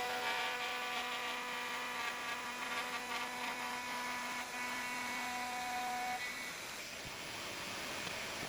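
A router cuts MDF for a desk build with a steady, high whining drone close by, its pitch shifting slightly near the end.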